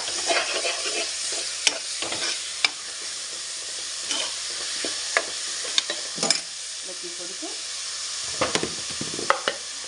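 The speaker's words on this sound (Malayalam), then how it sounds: "അതും കൂടെ ചോപ്പ് ചെയ്തിട്ട് അതും കൂടെ ഞാൻ ഇട്ട് കൊടുത്തിട്ടുണ്ട്. അതിനെ നല്ലതായിട്ട് ഇളക്കി കൊടുക്കുക." Chopped onions frying in a pan for butter chicken, stirred with a spoon: a steady sizzle underneath with repeated sharp scraping and clacking strokes scattered throughout, close and fairly loud, with no talking.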